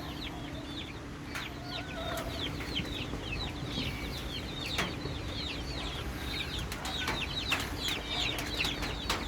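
Free-range chickens cluck in a backyard, a steady stream of soft, overlapping clucks and chirpy calls from several birds, with occasional sharp knocks and a low background hum.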